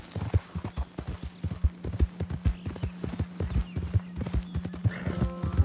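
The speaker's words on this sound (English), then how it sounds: "É um cavalo que corre, né?" Horse hooves clip-clopping at a steady gallop rhythm in Red Dead Redemption 2, loud and close, with a brief whinny near the end and no talk.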